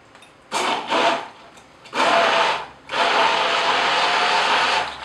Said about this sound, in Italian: Frullatore a immersione